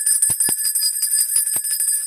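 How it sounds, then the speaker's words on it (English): A bright bell rings steadily with a sustained high shimmer, punctuated by a few sharp strikes, close and fairly loud. "Let's ring that bell for you"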